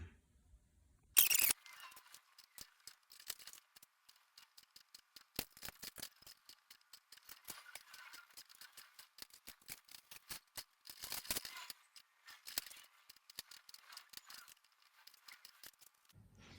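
Sheet steel being cut on a shear while fabricating a cockpit rear wheel panel: sparse, sharp snips and light metallic clicks come in irregular bursts against a very quiet background, with one louder clack near the start.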